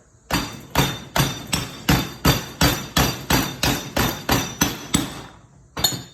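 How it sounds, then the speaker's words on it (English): Rubber hammer tapping a socket onto the CV joint of a 1971 Super Beetle: about a dozen sharp, evenly spaced knocks in steady rhythm, close and loud, then one final blow after a brief pause. "You go on top like that, get your rubber hammer."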